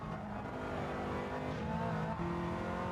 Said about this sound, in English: I'm getting tyre squeal through these corners when I slide it.